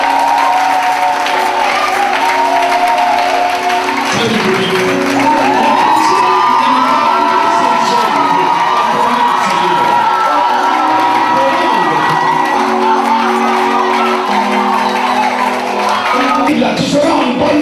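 A church congregation cheering and acclaiming loudly and continuously, with shouts, whoops and applause in a dense, enthusiastic crowd roar throughout.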